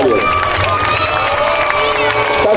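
Crowd at a knights' tournament festival in Laxenburg cheering and shouting loudly in a continuous burst, children's voices mixed in, close and dense throughout.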